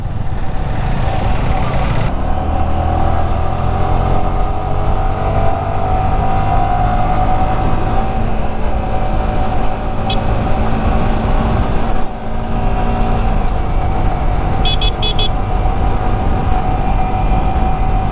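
A Yamaha R15 V3 motorcycle engine hums steadily while riding, with a constant drone and wind rush and a few faint clicks, loud and close throughout.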